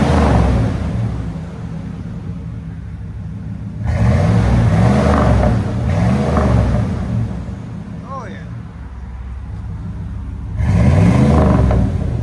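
A 5.7L V8 in a 1997 GMC Sierra, breathing through a Flowmaster Super 10 exhaust, idles with a deep burble, then revs hard in three separate bursts. A person briefly speaks between the revs.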